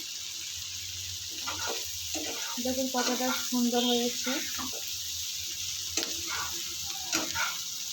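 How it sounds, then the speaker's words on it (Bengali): Prawns fry in oil with an onion paste, a steady sizzle running under a voice as she talks, with occasional stirring scrapes. "আরও পাঁচ মিনিট ভাজা করে নেব"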